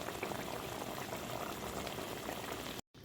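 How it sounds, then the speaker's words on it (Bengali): Bengali-style katla fish curry bubbling steadily in a pan, a dense continuous simmering hiss and crackle at close range, unbroken apart from a very brief cut near the end. "এর সঙ্গে মাছগুলো ভালো করে ফুটিয়ে নেব"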